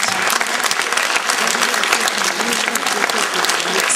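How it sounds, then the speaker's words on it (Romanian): Dense, steady applause from a theater audience runs loud and unbroken for the whole stretch, many hands clapping at once with no gaps. "Aplaudați, vă rog, stelele a românești."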